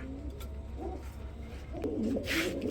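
Bombay Lahori pigeons coo nearby, with several soft, low, rolling coos over a steady low background rumble, and no talking.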